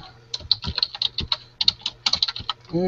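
Rapid, irregular keystrokes on a computer keyboard, clicking in quick bursts with short pauses, fairly close and clear, ending with a brief unrelated tonal sound.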